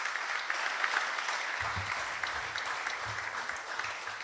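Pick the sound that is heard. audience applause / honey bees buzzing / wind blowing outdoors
audience applause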